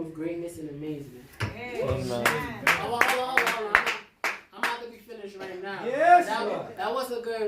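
A church congregation claps in scattered, sharp hits while a voice speaks and sings over it, the claps irregular and fairly close.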